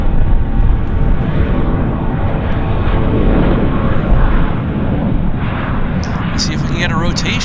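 An Air Canada Jazz airliner takes off at Vancouver airport, with a loud, steady roar of engines thundering down the runway and a brief chirp near the end.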